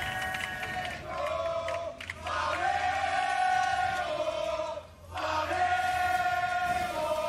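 Esports arena crowd at the 2019 League of Legends World Championship play-in: a sustained roaring chant of many voices that swells, dips briefly twice, and surges again, loud and continuous.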